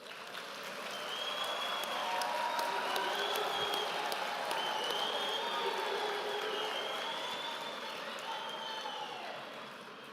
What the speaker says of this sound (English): I want to believe that the graduates deserve a full round of applause.